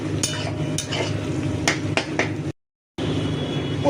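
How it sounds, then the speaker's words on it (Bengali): Onions and garlic fry in a pan while being stirred, making a close sizzle broken by scraping strokes and utensil taps, with a short silent gap before the sizzle resumes. "আর এদিকে দেখো পেঁয়াজ রসুন সব ভাজতে দেওয়া হয়ে গেছে।"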